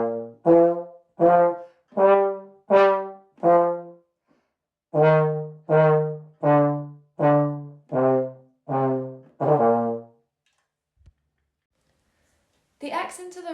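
Twinkle Twinkle Little Star picked out note by note, each tone sharply accented and separated by short gaps, a clean tuneful instrument close by with a pause near the end; no one speaks.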